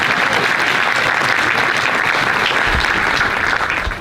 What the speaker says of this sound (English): Applause, please, some of them.